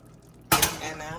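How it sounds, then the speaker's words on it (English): Water poured into a cooking pan holding tuna steak, with a sudden splashing burst followed by a short fading pour and slosh, close by. "put a little bit more water in there."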